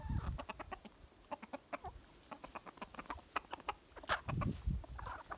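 Hens pecking at food give quick, irregular clucks and short calls close by, with scratching and pecking taps mixed in, fairly quiet overall.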